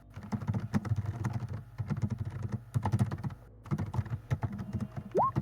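Fast, heavy typing on a computer keyboard, a dense rapid clatter of keystrokes with brief pauses, close and fairly loud.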